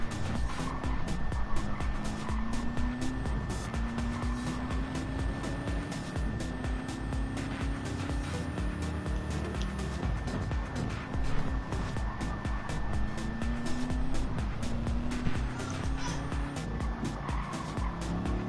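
A BMW M6 GT3 race car engine in a racing game at Daytona drones steadily, with repeated rising gear-pull tones and occasional tire squeal, loud and continuous throughout.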